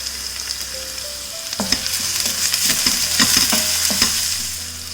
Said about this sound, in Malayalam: ഞാനിവിടെ 1 table spoon ginger garlic paste എടുത്തിട്ടുണ്ട്. അതും കൂടി ഇട്ടിട്ട് വഴറ്റി കൊടുക്കാം.